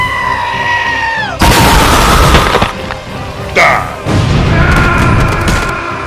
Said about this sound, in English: make the one who killed him explode